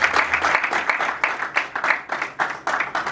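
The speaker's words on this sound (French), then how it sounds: "On va applaudir pour cet enfant s'il vous plaît" Wedding guests applaud a child during the ceremony, a steady patter of clapping hands from a gathered crowd with light swells in intensity, fairly close and continuous throughout.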